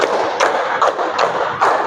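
A class claps in a counted rhythm during an Indonesian lesson, four evenly spaced, loud, close claps with a dull thudding quality and no talk over them.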